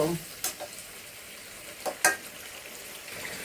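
Fried potatoes being stirred and sautéed in a sizzling pan, a soft continuous frying hiss broken by a few sharp scraping strokes of the spoon, close up with no talking.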